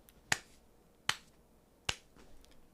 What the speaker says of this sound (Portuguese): Palma forçada.